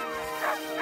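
Sled dogs at a race checkpoint let out short, close yips and whining barks, two brief bursts in under a second.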